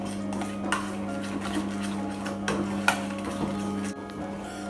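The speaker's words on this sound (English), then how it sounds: "now we're going to mix them well" Broccoli being mixed in a bowl with a garam masala marinade, giving soft clinks and scraping of utensil against a dish over a steady background hum, close and moderately quiet.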